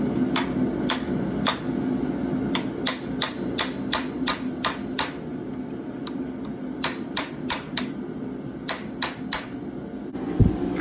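A chisel struck with a hammer, cutting frills into the back of a forged dragon head for a door knocker, sharp metallic taps arriving in quick bursts of rapid regular blows with short pauses, close and loud.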